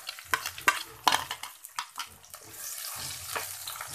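Chopped onion and garlic frying in a pan for cabbage and egg bhaji, with several sharp spatula scrapes and clicks followed by a soft, steady sizzle, close and with no talk.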